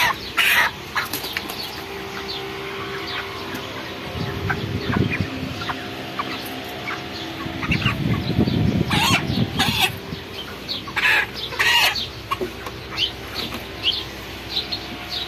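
Large broiler chickens around 36 days old, weighing over two kilos, cluck and squawk in a poultry shed while being caught and held, a busy overlapping chorus of close calls with bursts of flapping and rustling.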